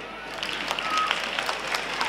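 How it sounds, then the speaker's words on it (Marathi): Audience applauding at a primary school's annual gathering, with a dense patter of many hands clapping at moderate volume, steady across the whole stretch. "आता टाळ्या वाजवा"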